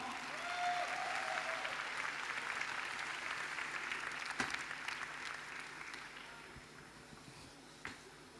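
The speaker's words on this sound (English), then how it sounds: "Round of applause, come on" Sustained applause from a conference audience at the WCIT 2019 tech event as a large panel is welcomed, a dense even wash of many hands clapping that slowly fades out.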